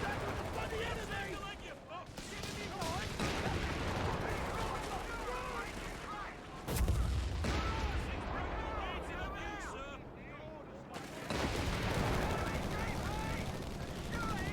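Dense battlefield gunfire in Company of Heroes 3 with British forces, rifle shots and bursts crackling continuously under shouted soldier voices, with a heavier blast near the middle.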